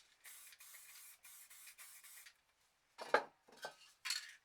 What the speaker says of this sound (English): when I'm spraying the paint on this planet